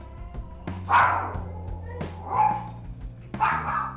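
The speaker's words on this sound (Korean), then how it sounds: "이내 다시 짖기 시작합니다." A dog barks in sharp, separate bursts, three loud barks spaced about a second apart, close by, with soft background noise and a faint voice between them.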